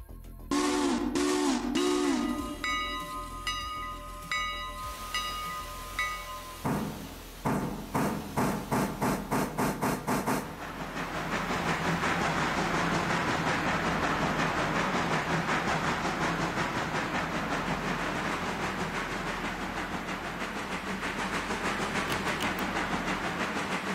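A model or heritage steam train gives sharp whistle blasts, then starts off with a quick series of rhythmic chuffs and settles into a loud, steady running roar along the track, with no talk over it.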